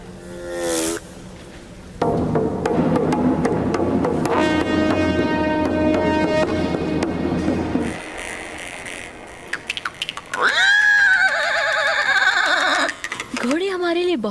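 Horses in Kazakhstan neigh and whinny in several loud, close calls, with rising and falling squeals near the end, amid background sound and other animal noises.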